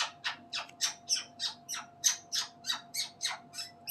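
Smokey, a pet bird, squawks in a fast regular series of about a dozen harsh, close, fairly soft calls over a faint steady hum.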